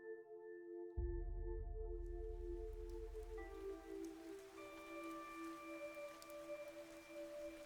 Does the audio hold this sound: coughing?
no